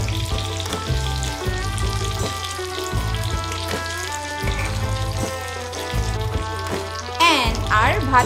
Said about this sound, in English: Bhat Karela pakoras are ready. They are all sizzling.